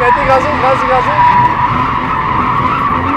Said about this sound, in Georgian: ორივე მხარეს დონატი კარგად გამოგდის